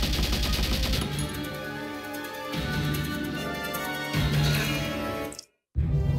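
Sustained rapid gunfire from a Valkyria Chronicles battle rattles loudly and continuously, with bursts layered over a steady din, then cuts to a brief silence before resuming.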